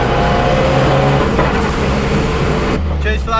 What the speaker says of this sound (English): As you can see, Dan certainly knows how to pedal a car